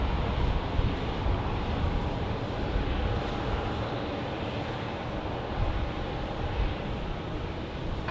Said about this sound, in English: Next up, Delta Airlines going to Salt Lake City on a 737-800